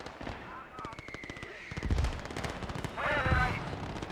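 Rapid automatic gunfire from a Whirlwind flak vehicle in Gates of Hell: Ostfront, dense repeated bursts over game battle noise, with a voice talking over it.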